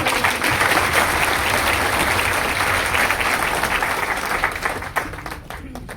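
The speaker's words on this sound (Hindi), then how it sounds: "प्लीज एक बार ताली" Sustained audience applause after a host's call for a round of clapping at a gathering honouring guest Manan Mishra, a steady dense roar of many hands that thins toward the end.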